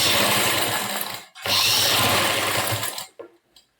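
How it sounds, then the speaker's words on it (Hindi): A sewing machine runs fast while stitching a stretchable trouser, a loud, dense whirring rattle that stops briefly, starts again for about two seconds, then winds down and ends with a couple of soft knocks. "और अब हम इसे यहां से सिलाई करके निकाल लेंगे।"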